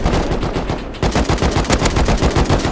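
Rapid automatic gunfire in a video game, a loud, close stream of sharp shots with a brief gap near one second before the fire resumes in even bursts.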